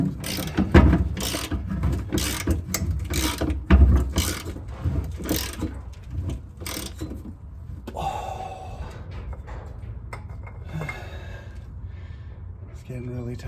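A ratchet loosens a gas tank bolt on an RX-7, with quick bursts of close clicking for the first several seconds, then quieter scraping and effortful breaths.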